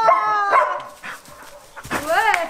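A dog barks and yips in a short series of high, excited calls, close and fairly loud, at a campsite during a summer camper-van holiday.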